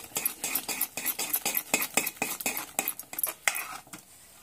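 A spoon stirs gram flour (besan) in a metal pot to break up lumps for pithla, giving quick, close scraping and clinking strokes in an uneven rapid rhythm that stop near the end.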